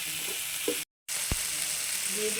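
Seedless tamarind with salt frying in a pan for a ridge gourd chutney, a steady close sizzle broken by a brief silent gap, with a single soft knock near the end.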